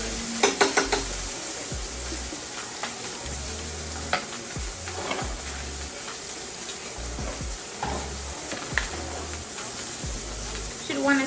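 Butter sizzles and fries steadily in a hot pan with jerk chicken, a constant crackling hiss broken by sharp clinks and scrapes of a utensil stirring against the pan.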